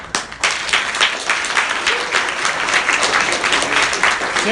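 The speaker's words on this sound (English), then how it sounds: "Let's clap to your neighbor." Loud audience applause fills a room, steady dense clapping from many hands throughout, with a few voices faintly underneath.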